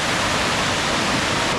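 A small waterfall at Forks of the Credit rushes steadily close by, a loud, unbroken broadband roar of falling water with no voices.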